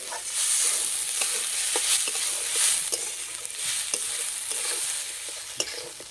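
Rice frying on low heat for egg pulao, with a steady soft sizzle and regular scraping strokes of a spoon stirring the grains in the pan, with no talk.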